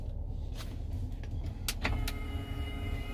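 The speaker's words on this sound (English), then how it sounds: "Push that button and the screen will lift" Motorized screen in a 2017 Chevy Suburban LT lifting, a steady low electric motor hum running throughout with a few short clicks and whirs partway through, close and alone.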